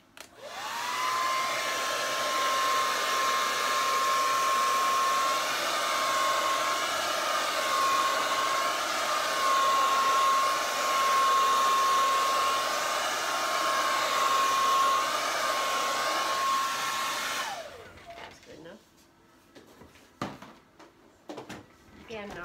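A hair dryer blows steadily and loudly on an alcohol ink painting on Yupo paper, running for about seventeen seconds before switching off and leaving quiet handling sounds.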